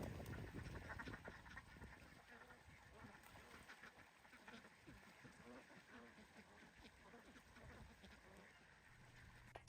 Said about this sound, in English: Happy ducks.